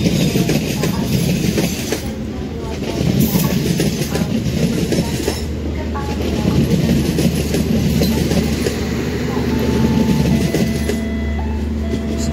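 The Senja Solo 7718 passenger train to Pasar Senen, Jakarta, rumbles steadily past nearby, wheels clattering on the rails with a continuous loud roar and occasional high squeals.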